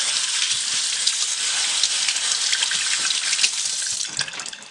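Tap water runs steadily over hands rinsing homemade soap lather away, a close, continuous hiss and splash with small fluctuations as the hands move through the stream.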